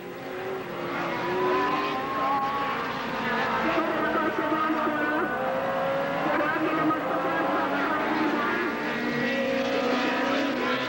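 Classic race cars roar continuously around the Wallerfield circuit in Trinidad during a lap of a race, their engines droning and shifting pitch at a steady, moderately distant level, with no talk heard.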